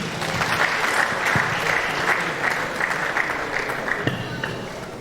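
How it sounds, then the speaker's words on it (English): Sustained applause from an audience at a university estate management department's 30th anniversary alumni reunion award ceremony, a steady dense clatter of clapping lasting throughout with faint voices beneath. "A round of applause."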